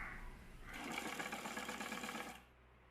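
A sewing machine stitches a double-folded cross piece of a girl's dress, a close, steady mechanical whir with rapid needle ticking that starts abruptly, runs for under two seconds, then stops cleanly, no voices over it.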